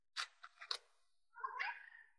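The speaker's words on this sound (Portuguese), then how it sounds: "Escutei o gato." A cat meows during a pause in a Portuguese-language interview, two short mewing calls followed by a longer drawn-out meow, fairly close and moderately loud, with no talk over it.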